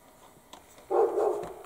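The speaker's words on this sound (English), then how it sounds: "Excuse the dog barking." A dog barks once indoors, a short mid-distance bark that rises suddenly out of a quiet room and trails off.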